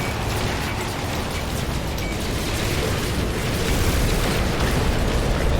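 Rockets explode in No Man's Sky, a dense, roaring wash of blasts and crackling bursts that runs loud and unbroken throughout, building slightly toward the end.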